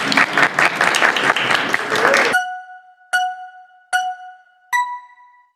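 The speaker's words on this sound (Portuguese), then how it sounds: "Palmas para Cássio ali." A seated audience claps loudly for about two seconds and then stops abruptly, followed by three separate clear electronic chime tones ringing out in the quiet.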